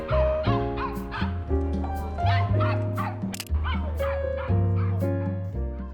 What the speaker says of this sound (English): It's always the small dogs that are the yappiest, right?